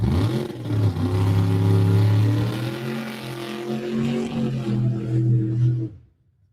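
Drag racing cars with a supercharged big block engine and turbocharged engines roar loudly down the strip, a sustained, rising drone that carries through before cutting off abruptly near the end.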